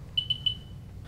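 Three quick high-pitched electronic beeps from a radiation meter near a smoke detector in an irregular burst, clear but fairly soft over a low background hum.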